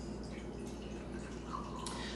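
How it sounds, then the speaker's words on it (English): Orange juice for sangria pours in a steady, soft liquid trickle, close by, with a faint dripping splash partway through and no talking over it. "I'll pour the 1/2 cup of orange juice in."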